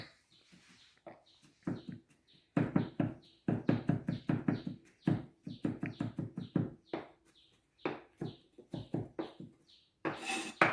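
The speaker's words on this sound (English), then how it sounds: "scrape the sides of the knife down on the board and keep on going" A knife chops and scrapes finely minced zucchini on a wooden board, giving crisp rhythmic taps in quick bursts with brief pauses, close and clear with no talk.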